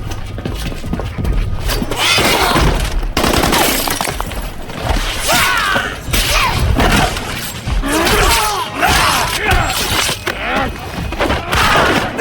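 Movie fight scene from The Wolverine (2013) with loud, dense bursts of gunfire and crashing impacts, mixed with shouting voices throughout, continuous and intense at close range.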